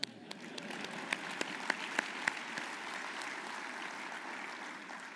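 Applause from an audience at an air power conference, a fairly steady spread of clapping with a few sharper claps standing out, moderately loud and without talk.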